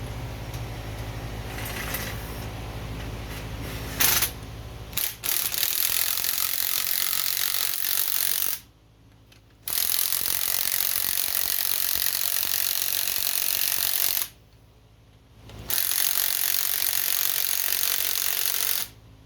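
A ratchet working on car strut bolts during strut installation, clicking in bursts of steady mechanical rasping, broken by two short pauses of near silence.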